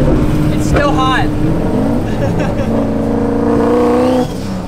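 A revving Mustang race car engine with turbo flutter: loud, rising and falling engine tones with a fluttering whoosh as the revs drop. The roar is close and continuous, with voices briefly over it.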